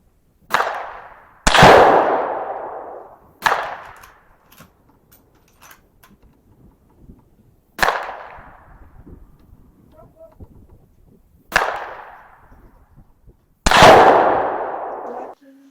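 A Savage 110 Trail Hunter rifle loaded with Hornady CX bullets fires six sharp, loud shots at an outdoor range, spaced a few seconds apart, each blast followed by a decaying echo over quiet surroundings.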